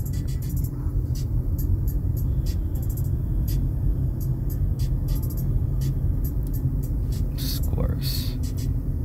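A car drives along a road with a steady close engine and tyre rumble throughout, while soft voices and faint whistling sit over it.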